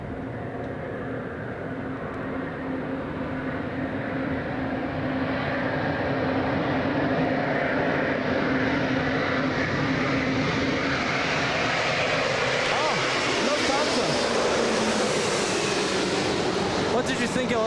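An Airbus A350 arriving from London passes overhead on its landing approach to LAX, a distant, steady jet roar that swells gradually as it draws nearer.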